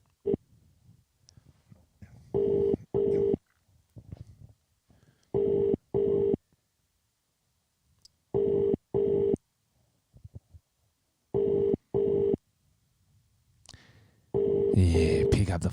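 Repeated pairs of steady dual-frequency telephone tones sound in short bursts, four double beeps spaced a few seconds apart, with faint murmuring and clicks between them and a louder burst of noise at the end.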